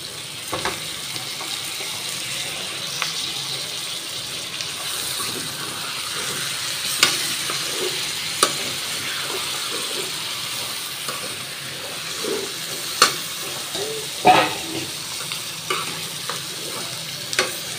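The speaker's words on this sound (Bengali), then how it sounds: "এখন আমি মাংসগুলোকে কষিয়ে নেব" Chicken pieces are stir-fried with potatoes in a pan: a continuous sizzle runs throughout, broken by scraping stirs and a few sharper knocks of the utensil, close and alone.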